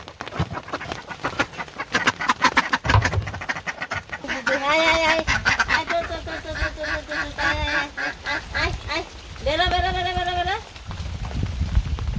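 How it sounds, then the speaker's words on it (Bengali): Ducks calling close by in a rural yard, a run of rapid repeated quacks and honks in several bursts over about twelve seconds, with people talking among them. "হাঁসটা দে নতুন হাঁস আছে"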